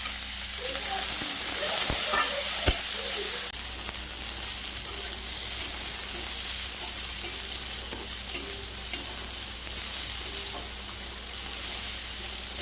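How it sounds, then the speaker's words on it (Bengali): Green banana pieces frying in a pan with salt, holding a steady, even sizzle with faint stirring clicks throughout. "কলাটা ভাজা হয়ে গেছে এবার আমি নামিয়ে নেব"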